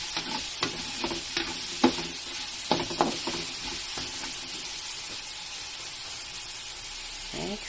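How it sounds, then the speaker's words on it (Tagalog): Pork and tomato sautéing in a pan for ginisang chayote, a steady sizzle with scattered stirring scrapes and clinks from a utensil against the pan, close up and with no talk. "Isasutay lang natin yung kamatis, yung pork sa kamatis."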